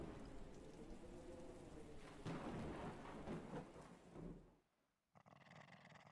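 A video game thunderstorm in a fishing garden game rumbles with thunder over steady rain for about four seconds, then cuts out to near silence before quieter rain returns.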